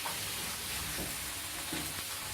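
Garlic sizzles in a hot pan with a steady, dense frying hiss, close and continuous, with a few soft stirring shifts and no voices.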